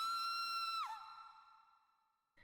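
A scream from the intro of the Dreamcast game Seven Mansions Ghastly Smile: a single high, sustained wail that suddenly drops in pitch and fades away into near silence.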